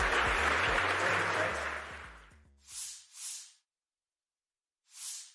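Audience applause at a tech conference, a dense, loud clatter of clapping that slowly fades out over a couple of seconds, followed by a few short hissing bursts with silence between them.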